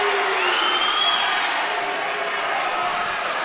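Crowd noise swells steadily at a girls' varsity high school basketball game, a dense, continuous roar of cheering voices filling the gym for the whole stretch with no single voice standing out.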